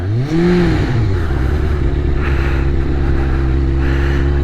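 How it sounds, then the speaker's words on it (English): A 2001 Kawasaki Ninja ZX-6R motorcycle engine revs high and then drops, its pitch climbing and falling as a gear change into second is missed, followed by a steady loud idle-like drone. "So I'm like revving really high and everything, just trying to change gears."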